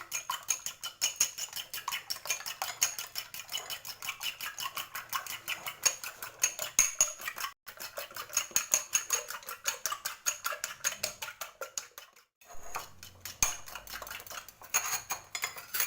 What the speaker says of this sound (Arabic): دابا غنشد هذاك البيض غادي نضربو